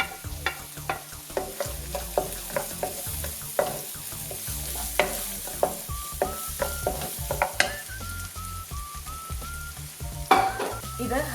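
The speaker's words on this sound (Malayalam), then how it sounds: "ഇത് ഹൈ ഫ്ലെയിമിലിട്ട് നമുക്ക് നന്നായിട്ട് തന്നെ ഇളക്കി കൊടുക്കാം" Carrot and capsicum stir-fried over high flame for egg fried rice, a steady sizzle punctuated by frequent sharp clinks and scrapes of a spatula against the pan, close by.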